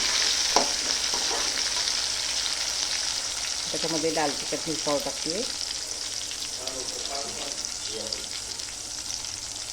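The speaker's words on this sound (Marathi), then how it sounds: "हे पण तेलामध्ये चांगले फ्राय करून घेते." Spices frying in hot oil for a potato and pea curry give off a steady, close sizzle and crackle, while someone talks briefly over it.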